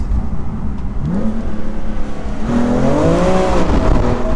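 A 2018 BMW M3 Competition engine revs up and down in quick rising and falling sweeps, loud and close, with no voices.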